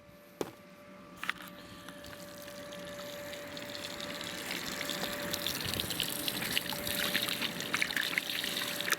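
A long stick stirs live crawfish and salt in a big Louisiana boil pot, making a steady wet churning and trickling that grows slowly louder, with a couple of sharp knocks near the start.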